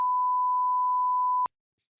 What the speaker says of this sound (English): we can beep it out